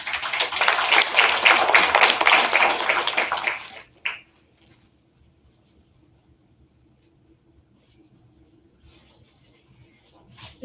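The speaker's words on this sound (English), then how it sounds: "a round of applause to our principal, Ms. Aguilar." Audience applause at a regular school board meeting, a loud burst of clapping for about four seconds that stops abruptly, followed by near silence and faint room noise.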